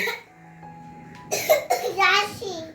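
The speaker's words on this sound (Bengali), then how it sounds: "হ্যাঁ হ্যাঁ কাশি হচ্ছে" A woman coughs a couple of times indoors during rainy weather, the short harsh bursts mixed with a voice and talk around them.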